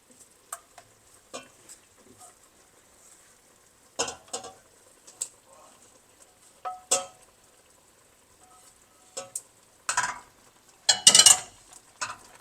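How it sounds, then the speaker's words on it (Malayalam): Mutton being stirred with masala in a pan, heard as scattered scraping and clinking spoon strokes against the metal with soft sizzling between them, growing busier and louder toward the end. "എന്നിട്ട് നന്നായിട്ട് ഇത് ഇളക്കി വയ്ക്കുക."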